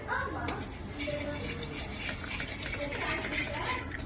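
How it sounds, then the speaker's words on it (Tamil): Water pours steadily and continuously into a pan with a splashing, gushing texture, fairly close and not loud, with no voices over it. "நான் இப்ப தண்ணி ஊத்துறேன்"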